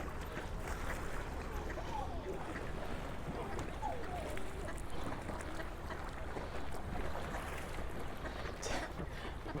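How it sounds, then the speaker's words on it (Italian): Wind and choppy lake water wash against the shore on a breezy morning by the lakeside promenade, a steady rushing roar with gusty microphone buffeting throughout. "Stamattina è leggermente mosso il lago, c'è un po' di vento e l'acqua subito esce."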